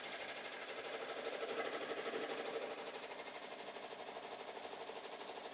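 A sewing machine runs steadily, stitching a dense embroidery design onto a jacket, a continuous close mechanical whir with fast even needle rhythm and no talk.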